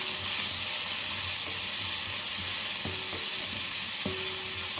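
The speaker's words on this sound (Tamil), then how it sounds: "இப்போ நம்ம எண்ணெய் காஞ்சிச்சு, கடுகு போட்டுக்கலாம். கொஞ்சம் உளுந்து, கொஞ்சம் சீரகம்." Mustard seeds, urad dal and cumin frying in hot oil, giving a steady close sizzle with scattered crackles and small pops throughout, no voices.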